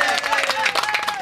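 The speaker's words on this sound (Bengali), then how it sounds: "ও হাততালি!" Applause from a small gathering at a cake cutting during a celebration at a cattle market, a brief burst of scattered clapping with a mixed crowd and voices.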